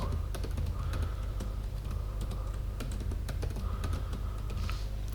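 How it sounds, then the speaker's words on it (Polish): Steady typing on a computer keyboard as a new password is entered twice, with quick clustered keystrokes and brief pauses, close and fairly clear with no talk. "Następnie dwukrotnie wpisujemy nowe własne hasło"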